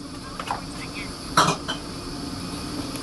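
Ceramic soup bowls clink and knock as they are handled, with one sharper clatter mid-way among lighter taps, close by over a steady low hum.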